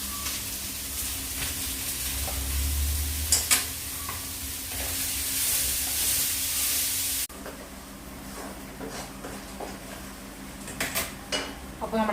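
Sliced onions with a little salt sizzling steadily in a hot pan, with a spoon stirring and scraping against the metal now and then, continuous and close.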